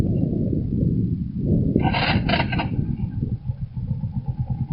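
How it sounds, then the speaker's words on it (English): Lifan KP Mini 150cc motorcycle engine idling quietly up close, a steady low putter throughout with a brief brighter rattle in the middle. "Now that's idling"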